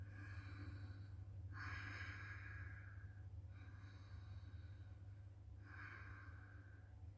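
A person demonstrates ujjayi breathing through a constricted throat, producing slow, close, hissing inhales and exhales, about four breath sounds alternating in a steady rhythm, imitating a rasping Darth Vader-like breath.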